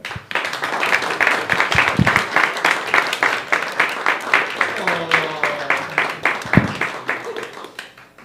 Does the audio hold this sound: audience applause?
yes